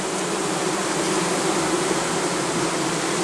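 Dense, steady buzzing of an untreated honeybee colony in a forest hive, with a constant close-up hum and no voices.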